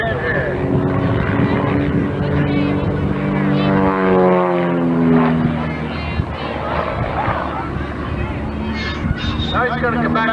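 Propeller-driven aerobatic plane flying hammerheads, a cobra roll and other maneuvers at a 1995 airshow, its engine droning steadily and rising and falling in pitch as it climbs and turns, with an announcer talking over it throughout.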